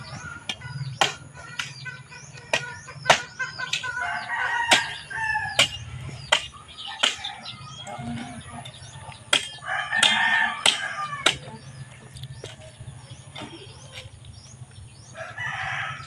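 Rooster crowing several times alongside clucking chickens outdoors, the crows rising over a low background with sharp chopping-like knocks spaced through the scene.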